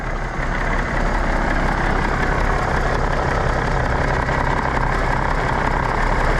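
A classic truck's engine idles with a deep, steady low rumble and faint knocking, loud and close, running continuously with no talk over it.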